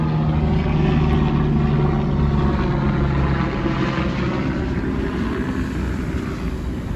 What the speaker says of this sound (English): Hang on, I got a helicopter going by.